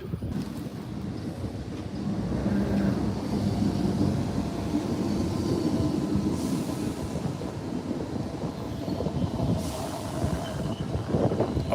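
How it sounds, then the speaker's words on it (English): A train arrives at a busy station with a loud, steady rolling rumble and wind buffeting the microphone, while faint squeals rise briefly over it, and no one speaks. "Train is here now."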